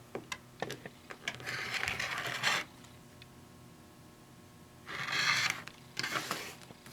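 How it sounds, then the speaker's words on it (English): A rotary cutter slices through quilt fabric in two short bursts of gritty rolling crunch, with softer clicks and handling noises around them and a quiet pause in between. "And I definitely do this with the rotary cutter"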